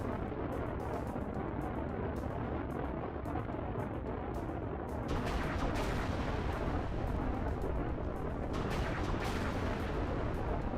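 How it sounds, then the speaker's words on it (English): Plasma missiles fire in the Halo Reach game during a space combat scene, a dense, loud, continuous rumble of booming blasts that swells midway, heard without talk. "Got some pretty slick plasma missiles here."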